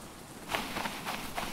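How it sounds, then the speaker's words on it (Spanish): Steady rain hisses in the survival video game Stranded Deep, a soft, even wash with faint patters rising briefly, quiet and alone. "Me parece a mí que está lloviendo"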